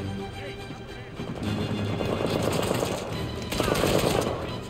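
Rapid automatic gunfire rattles continuously in Uncharted 4: A Thief's End on PS5, dense bursts swelling louder near the end, with a voice speaking over it.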